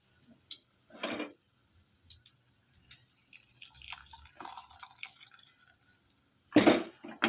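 Freshly brewed tea being strained in a home kitchen, with scattered drips and a couple of short splashy pours, quiet gaps between the liquid sounds.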